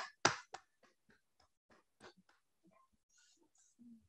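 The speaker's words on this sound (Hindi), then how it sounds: "हल्के हाथों से आप अपने ताली बजाए धीरे धीरे" Soft, gentle hand claps during a meditation session, a few sharper claps at first then a scattering of faint, irregular taps, close and quiet with a brief murmur near the end.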